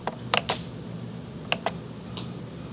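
A few quiet, close keystrokes tap on a computer keyboard as a formula is entered, coming in uneven clusters of two or three clicks with short pauses between them.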